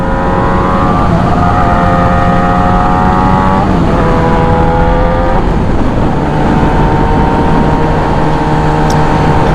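A 2017-2021 Yamaha YZF-R6 engine revs loudly and steadily up close through a side-exit exhaust, its pitch climbing and dropping through several throttle changes with a harsh, throaty exhaust note.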